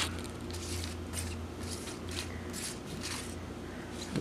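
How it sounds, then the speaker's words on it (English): Board game tokens turned face down and shuffled by hand on a table, soft continuous scraping and clicking bursts, faint and close, with a low steady hum underneath. "And then we will shuffle them."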